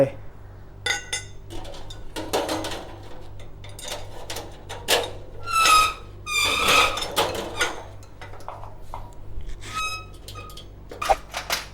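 Metal legs of a Coleman charcoal grill being fitted on, with scattered clanks, clinks and squeaks of metal parts at close range, mixed with someone talking.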